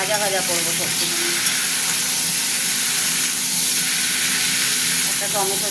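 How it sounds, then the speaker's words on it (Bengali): Vegetables frying in hot oil with panch phoron for Bengali shukto give a loud, steady, close sizzle that hisses without a break from start to finish. "ভাজা ভাজা হচ্ছে"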